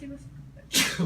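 A quick, sudden sneeze erupts at the end of a quiet moment, close and fairly loud.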